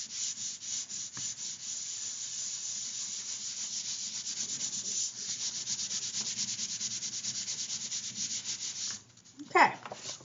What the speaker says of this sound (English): turn it over, and give it a good rub to make sure it has good contact